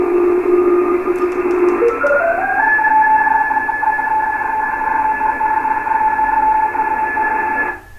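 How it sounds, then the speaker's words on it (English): Radio teletype signal received on shortwave radio: a loud steady two-tone warbling data carrier that shifts pitch early on, then holds steady against background static, cutting off at the end. "Now that's radio teletype, Richard."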